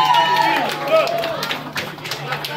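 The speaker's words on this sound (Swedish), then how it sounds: "Ja, bara ge en applåd för Kobe." Party guests applauding a returning guest at a birthday reunion, a steady patter of clapping mixed with overlapping voices throughout.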